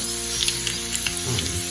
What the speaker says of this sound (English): the potatoes are still frying a little bit, very low